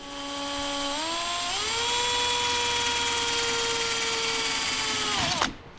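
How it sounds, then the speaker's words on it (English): A power drill spins up with a rising whine, runs steadily at high pitch while boring a hole for a kayak trolling motor mount, then winds down abruptly. "I drill this hole, I'll use the correct size."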